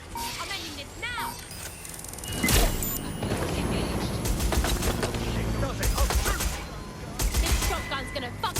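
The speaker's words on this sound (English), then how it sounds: "Gunfire!" Rapid bursts of gunfire crackle in clusters amid game sound effects and mechanical clatter in Watch Dogs: Legion, with voices talking over the action.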